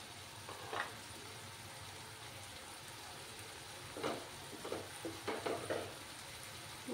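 Garlic and masala sautéing in a pan for a small-fish fry, a soft continuous sizzle with several scraping stirs clustered near the end, quiet and close with no voices.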